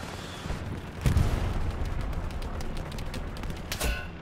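Gunfire rings out in the Hell Let Loose war game, a burst of rapid shots with sharp cracks near the start and end over a steady background of distant battle noise.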